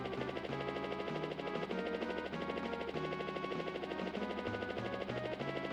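Helicopter in the SNES game Pilotwings, a steady synthesized rotor drone with buzzing low pulses running continuously under looping chiptune-style music, loud and even throughout.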